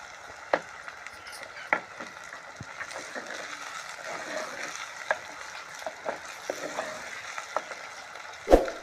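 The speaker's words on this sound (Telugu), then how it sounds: "ఉల్లిపాయలు వేగిపోయాయండి, టమాటాలు వేద్దాం" Onions and tomatoes sizzle in a pan for onion pakodi curry, a steady low frying hiss with scattered louder clicks and spatula scrapes, no voices.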